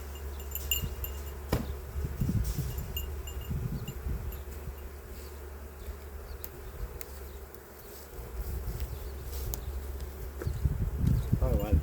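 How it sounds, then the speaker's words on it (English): Honey bees buzz around an open beehive during a spring inspection, a steady droning hum with swells of louder buzzing near the microphone and occasional clicks and knocks of handling. "Probably why the bees are getting mad at me."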